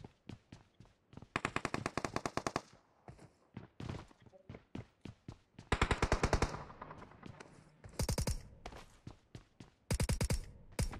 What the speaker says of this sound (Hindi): हर तरफ से शूटिंग हो रही है।